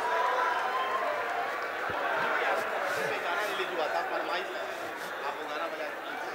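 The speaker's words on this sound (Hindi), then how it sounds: "क्या बात है, एक बार ताली बजा दीजिए आप लोग।" At a Bhojpuri stage show, an audience claps and cheers as a broad, dense wash of applause and crowd noise that holds steady throughout, with no clear voice above it.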